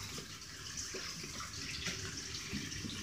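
Water runs steadily from a tap as a continuous broadband hiss with faint splashy variation, close and alone, with no talking.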